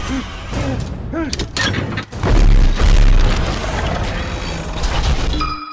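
Heavy booming cannon blasts with deep low rumble, loud and close, amid a chaotic animated-film action scene with shouting voices and mechanical clatter.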